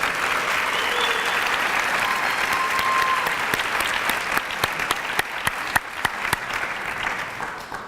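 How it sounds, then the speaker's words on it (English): A high school audience applauds honor students, a dense crowd ovation that thins out midway into a scattering of louder, individual claps near the listener before fading. "That deserves applause."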